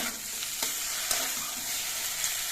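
A mustard and poppy seed paste fries in a pan under constant stirring, making a dense, steady sizzle with occasional scraping knocks of the spoon, close and fairly loud.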